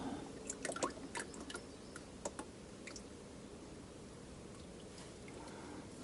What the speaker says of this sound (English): that's a lot of oil still running